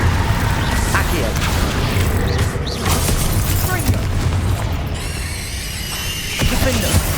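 Fiery spell blasts and explosive impacts in Hogwarts Legacy combat: loud, steady booms and crackling bursts pile up continuously, with a character shouting spell names over the noise.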